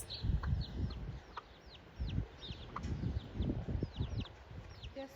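Chickens and ducks clucking and calling outdoors on a Menorca island walk, several short bursts spread through the clip against steady wind-like background noise, with chirping birds higher up.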